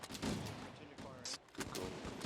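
Gunfire in the Halo video game crackles in several quick shots and short bursts, fairly faint and distant, with a louder sharp hit near the middle and a thrown grenade in the mix.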